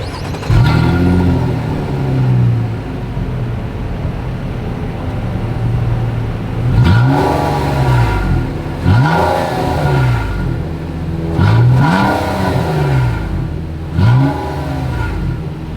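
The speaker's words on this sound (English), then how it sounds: "You do have dual exhaust outlets with quad tips." A 2022 Nissan Maxima engine revs repeatedly with a deep, throaty note through dual exhaust outlets with quad tips, rising and falling in several loud pulls, no talking.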